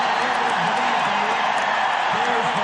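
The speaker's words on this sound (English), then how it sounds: "It's a Redskin crowd." Redskins fans filling the stadium at Super Bowl XVII keep up a loud, continuous crowd roar, with a commentator talking over it.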